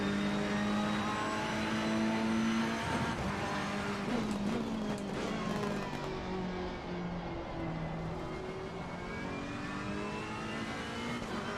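A GT3 race car engine in a racing video game at Donington Park, the car worn and battered, revving steadily with rising and falling gear-change pitch sweeps, loud and continuous with other engines blending underneath and no talk.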